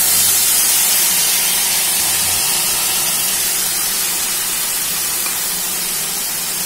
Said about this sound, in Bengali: এরপর আমি এখানে দিয়ে দিলাম হচ্ছে কাঁচা আম বাটাটা।